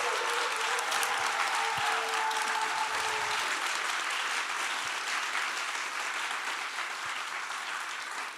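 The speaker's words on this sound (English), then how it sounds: "Please make a huge applause for them" Sustained applause from an audience at a Q&A session with an organizing team, steady and dense throughout, with faint voices and tonal murmurs in the first few seconds before thinning slightly at the end.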